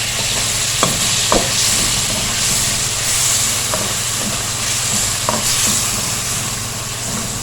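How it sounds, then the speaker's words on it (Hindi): Steady sizzling and hissing of ginger garlic paste frying in hot oil, with occasional clinks of a utensil stirring the pan. "इसको थोड़ा सा फ्राई करेंगे ताकि अदरक लहसुन का कच्चापन ख़त्म हो जाए।"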